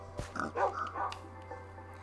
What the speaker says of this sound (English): That was a wolf.